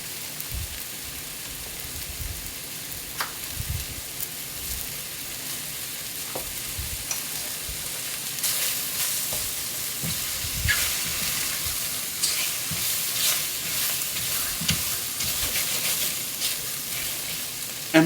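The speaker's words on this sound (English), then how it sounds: "you can use unsalted butter to brown your mushrooms" Mushrooms browning in a tablespoon of unsalted butter give a steady sizzle throughout, with occasional stirring clicks and scrapes, the frying growing a bit louder and denser in the second half.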